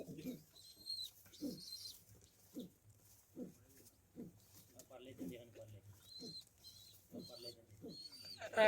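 A pigeon feeding grain to its chick in a village coop gives soft, rhythmic coos in repeated low bursts, close and quiet, with someone talking in between.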